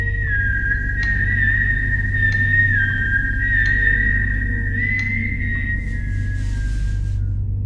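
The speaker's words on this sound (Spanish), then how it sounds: "exactamente a las 3:03 de la mañana escuchamos el silbido" A sustained whistled tone at night, long and steady with slight wavering pitch, held continuously over a constant low hum and background noise, with a few faint clicks.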